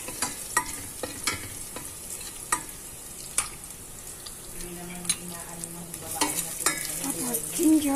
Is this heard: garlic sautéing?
yes